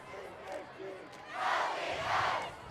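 A high school football stadium crowd swells into loud cheering, rising from a murmur to two broad surges of noise, heard at a distance over a faint commentary voice.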